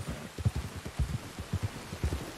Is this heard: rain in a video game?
yes